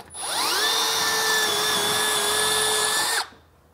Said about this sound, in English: All right, so I'm pre-drilling